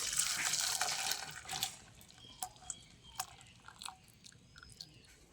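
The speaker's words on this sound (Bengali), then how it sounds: "রসটা এবার ঢেলে দেবো এতে" Hot sugar syrup for ras bora is poured from a pan into a large pot, starting as a steady splashing gush that gives way to scattered drips and small trickles.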